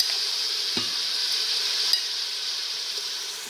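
Mutton with ginger fries in a pot with a steady bright sizzle, broken by a few scraping stirs of a spoon against the metal, close and without talk.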